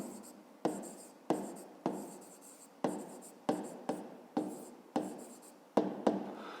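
Pen or pencil writing on paper while solving a fifth-grade math exercise, a close, dry scratching in about nine short bursts, each stroke starting sharply then trailing off, with no talking.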